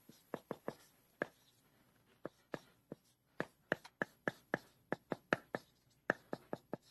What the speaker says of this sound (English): Then I'm going to write this.